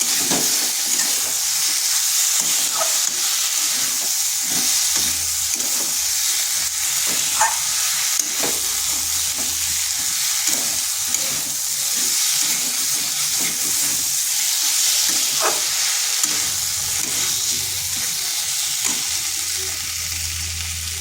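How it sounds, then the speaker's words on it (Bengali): Pumpkin cooked with egg frying in a pan, a loud continuous sizzle with regular scraping strokes of a spatula as the mixture is stirred over and over, occasional light clinks against the pan. "এইভাবে নেড়ে এটাকে বেশ কিছুক্ষণ ভেজে নিতে হবে"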